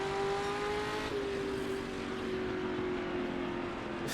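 Ford GT40 engine in Assetto Corsa after a Le Mans lap, a steady droning tone that slowly sinks in pitch as the revs fall, loud and continuous with no talk.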